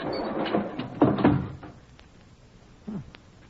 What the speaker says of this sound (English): Hurry, help me close the door before the archway falls on us.